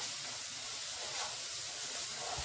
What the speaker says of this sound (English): turn the heat up a little bit and start to fry that for about a minute